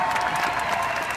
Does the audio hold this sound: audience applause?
yes